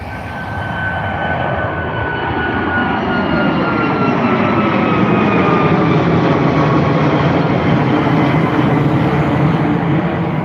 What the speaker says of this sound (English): taking off here, we have another Ryanair